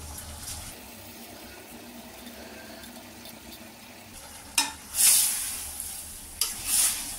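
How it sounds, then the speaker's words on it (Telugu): Drained soaked rice goes into a pot for soya chunk biryani over a faint, steady background sizzle, followed by two bursts of scraping and stirring near the end. "ఇప్పుడు ఈ వాటర్ వంపేసిన బియ్యం ఇందులో వేసి కలపాలి"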